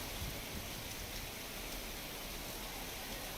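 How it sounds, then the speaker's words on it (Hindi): Heavy monsoon rain falls in Chhattisgarh as a steady, even hiss of downpour, continuous and fairly soft throughout with no voices over it. "रायपुर में भी झमाझम बारिश हुई और बिलासपुर में भी तेज बारिश हुई।"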